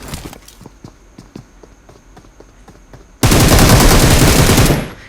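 Gunfire in a shooter video game: a run of sharp single shots with footstep-like taps, then a sudden loud, dense burst of rapid automatic fire lasting nearly two seconds before cutting off.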